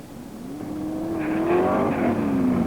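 Roaring engine of a 1969 NHRA Springnationals drag racing car in Dallas, Texas, a loud, rising, sustained growl that swells and holds steady near the microphone.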